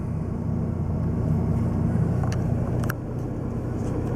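Car engine idling steadily shortly after a cold start in warm weather, a low, even rumble heard from inside the car with faint brief clicks.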